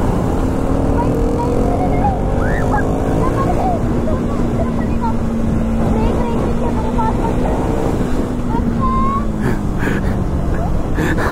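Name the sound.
KTM Duke 390 motorcycle accelerating in third gear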